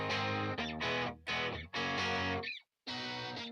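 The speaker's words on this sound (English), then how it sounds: "So that's the Fender Deluxe." Electric guitar through a Fender Deluxe amp, loud and distorted with a warm tone, playing chopped chord bursts broken by short gaps and one brief full stop near the end, with no talking.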